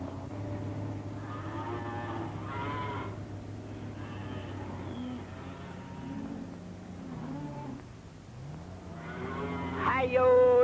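Cattle moo repeatedly in long, loud lowing calls that overlap and swell, with a mix of deep and higher voices near the microphone and a louder bellow near the end.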